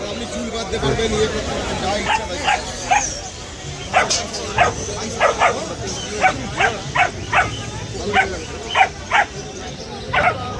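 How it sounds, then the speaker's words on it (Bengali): Several dogs bark and yip repeatedly in short bursts, fairly close, over a steady background of people chattering at an animal and bird market. "এই হচ্ছে কুকুরের জন্য, অনেক কুকুর রয়েছে।"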